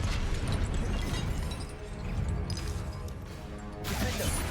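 Confringo spell explosion in Hogwarts Legacy, heard as a dense, loud, rumbling blast with crashing debris that eases briefly, then surges again.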